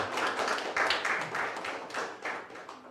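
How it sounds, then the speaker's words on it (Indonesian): A small group claps in a loose, uneven rhythm for a few seconds, close by and moderately loud, at an Easter church service. "Beri tepuk tangan kepada saudara ini."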